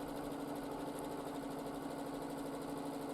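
A sewing machine hums steadily and evenly during free-motion quilting of a repetitive flower design, a continuous close mechanical whir with no pauses.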